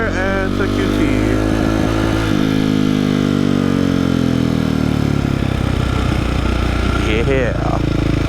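A motorcycle runs loud and close while riding through corners, its engine note rising and falling steadily, with someone talking over it.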